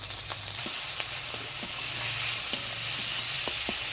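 Ginger, cumin and coriander spice paste frying in a hot pan with dried chilli, whole cumin and bay leaf, a close, steady sizzle with occasional soft stirring scrapes.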